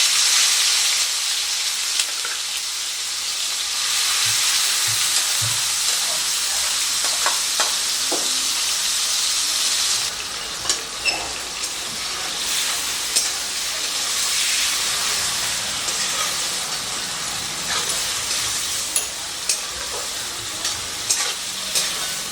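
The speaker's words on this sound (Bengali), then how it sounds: "তো তেলটা আমার গরম হয়ে গেছে, এবারে আমি তেলের উপরে এই চিকেনটাকে দিয়ে দিচ্ছি" Marinated chicken for a street-style egg chicken roll fries in hot oil, a loud, steady, close sizzle with bursts of hiss and scattered clinks of stirring throughout.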